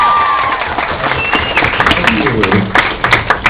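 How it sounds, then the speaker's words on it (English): A convention panel audience claps and cheers in a steady, loud burst that lasts a few seconds, with scattered individual claps standing out in the crowd noise. "Round of applause to the second year seniors."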